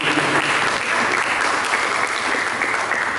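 A church congregation applauds during a sermon, a loud, dense and sustained clatter of many hands that fills the hall evenly for several seconds without pause.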